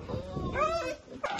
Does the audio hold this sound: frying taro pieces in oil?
no